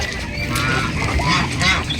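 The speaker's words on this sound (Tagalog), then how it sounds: "Mga manok." Poultry calling close by at dusk in a backyard peacock pen, a loud continuous stretch of squawks and clucking cries over steady background noise.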